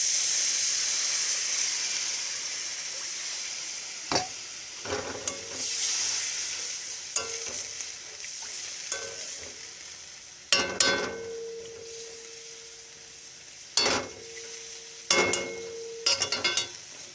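Water poured into a pan of frying spices with cumin powder for a vola fish curry, giving a continuous steaming hiss with scattered stirring scrapes and clinks throughout.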